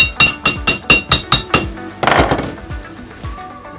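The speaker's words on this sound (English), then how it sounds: "just hammer, take that right off." A hammer strikes a gold bar to knock off spots, seven sharp ringing metallic blows in quick even rhythm, loud and close, then a brief scraping clatter and fading rings.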